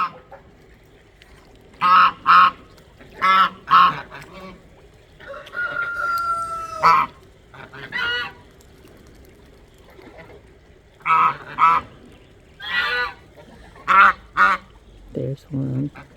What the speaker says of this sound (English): Yes, they're loud. I know some of them, some of you they annoy tremendously. But I love my geese.